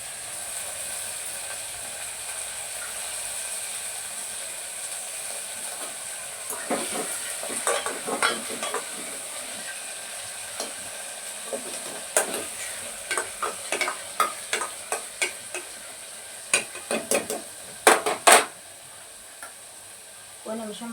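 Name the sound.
onions, green chilies and curry leaves frying in tempering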